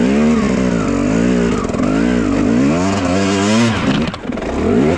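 A motorcycle climbs a slope up close, its engine loud and labouring, the pitch wavering up and down as the throttle is worked, then dipping briefly near the end before roaring again.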